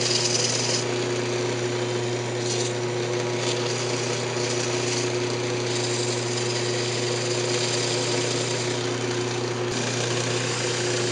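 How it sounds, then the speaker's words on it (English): A wooden hamburger press spins on a woodturning lathe while it is sanded, a loud steady motor hum and whir with a faint rough scratchy texture over it, continuous and without speech. "I'll go ahead and sand it up."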